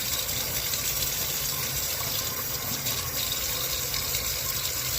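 Running water rinses glass canning jars at a kitchen sink, a steady loud gush and splash that holds constant throughout, with no voices over it.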